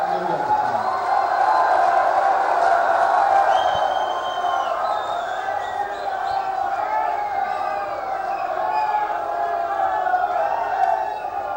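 A large crowd at an outdoor event welcoming Yogi Adityanath in Yamkeshwar roars and cheers in a dense, continuous wash of voices, with whoops and shouts rising above it for the whole stretch.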